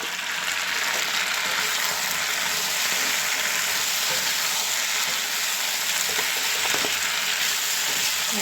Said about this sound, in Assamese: এইফালে মাছ ভাজি লৈছোঁ